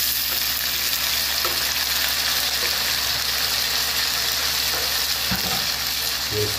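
Tomatoes for a Tomato Gangavalli Pulusu curry fry in a pan, producing a steady, dense hissing sizzle that continues evenly throughout, with occasional small clinks from stirring.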